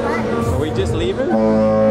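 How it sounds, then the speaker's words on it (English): A loud, sustained horn blares at close range after a moment of people talking, holding a steady low tone to the end. "That is a horn."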